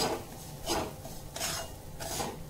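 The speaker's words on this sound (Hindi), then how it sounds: "अब ये सूजी डाल देंगे और इसे भुनेंगे" Semolina is stirred and roasted in ghee in a kadai for pineapple halwa, heard as a rhythmic scraping and rubbing of a spoon against the pan, repeated about four times, close and steady with no talk.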